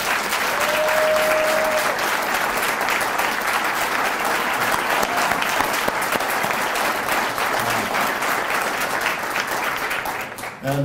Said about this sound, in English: I want to stand up and give you a round of applause